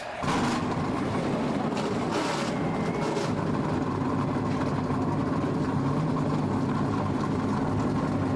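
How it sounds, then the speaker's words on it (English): Several NASCAR stock car engines fire up and settle into a loud, continuous rumbling idle, a dense low drone that fills the whole stretch without pause. "Drivers, start your engines!"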